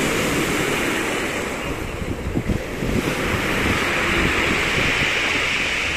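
Ocean surf rolls onto the beach at Barranco in Lima at sunset, a loud continuous wash of breaking waves with heavy wind buffeting the microphone.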